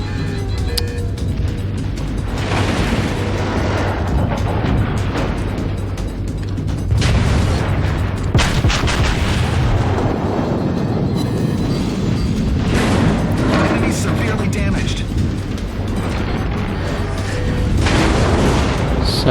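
Heavy naval gunfire in World of Warships with the South Carolina battleship, deep booming salvos and rumbling impacts recurring over a continuous engine drone, loud and close, with brief talking in places.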